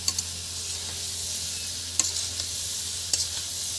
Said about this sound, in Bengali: বন্ধুরা দেখুন এটাকে ভালো করে নেড়ে চেড়ে নেওয়া হচ্ছে